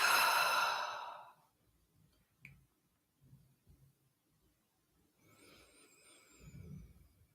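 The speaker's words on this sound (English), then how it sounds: "Exhale out." A long, slow exhale during a guided breathing exercise, loud and close at first, then trailing off into quiet, with soft breaths and small rustles afterward.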